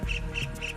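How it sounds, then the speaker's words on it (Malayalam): Three harsh, squawking bird calls in quick succession in a mangrove forest at Kalba, Sharjah, fairly loud against a steady low background hum. "ഇടയ്ക്കിടയ്ക്ക് കിളികളുടെ സൗണ്ട് കേൾക്കുവാനായിട്ടാകും"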